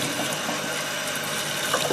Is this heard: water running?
yes